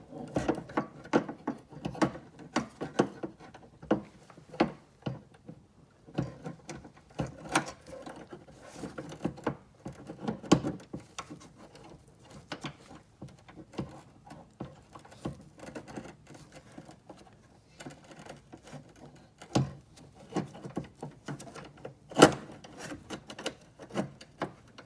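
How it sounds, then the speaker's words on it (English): A trunk lock latch going into a Foxbody coupe makes sparse, quiet mechanical clicks, ratchety snaps and small metallic rattles, scattered irregularly throughout with no talking. "now I'm ready to install the latch"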